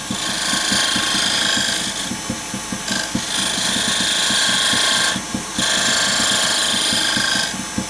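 Wood lathe turning and smoothing a chess queen piece, a steady close whirring hum with rhythmic scraping pulses, the tone dipping briefly a few times as the tool lifts off and returns to the wood.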